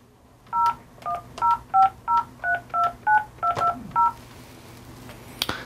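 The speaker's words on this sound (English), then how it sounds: "Let's dial the extension number." Telephone DTMF tones dialing an extension number through a Bluetooth-over-IP gateway: eleven crisp, evenly spaced dual-tone beeps in quick succession, clear and close, ending with a faint click.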